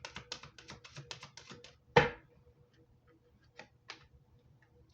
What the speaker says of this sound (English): I can't stop shuffling.